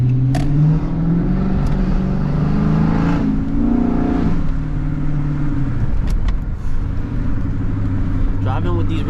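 A Dodge Charger driving with its windows down: a loud, steady engine hum and road rumble with wind buffeting, close and constant throughout.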